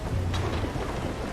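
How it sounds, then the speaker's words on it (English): A dense, steady roar of heavy rain at sea in Assassin's Creed Freedom Cry, with a low rumble of thunder underneath and a brief brighter crack early on. "Captain, it's raining."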